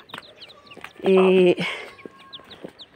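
A mother hen clucks with her newly hatched chicks, soft clucks and thin chick peeps scattered throughout, with a louder harmonic squawk burst in the middle and a person speaking nearby.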